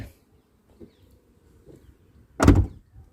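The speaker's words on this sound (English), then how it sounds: "And you need some effort to close the doors." Door of a Mahindra Scorpio S10 SUV shut firmly, a single solid thud after quiet rustling, close and clear.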